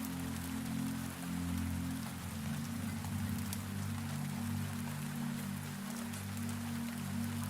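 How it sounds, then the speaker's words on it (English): Steady rain pattering on greenhouse glass at night, a soft continuous hiss of drops over a low sustained hum, even and unbroken throughout with no voices. "the rain on the glass"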